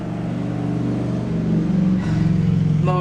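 A motorcycle engine climbs a hill at high speed, a steady loud drone that rises in pitch and intensity partway through, continuous for a few seconds with no talking.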